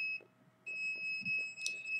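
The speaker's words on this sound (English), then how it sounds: "So the readings doesn't always trigger the alarm on this detector because the threshold is set higher, but it does trigger the alarm in this one." A radiation detector's alarm sounds as steady high electronic beeps and tones, fairly faint and close, with no talking.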